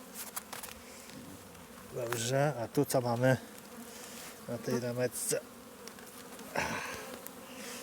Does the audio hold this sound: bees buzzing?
yes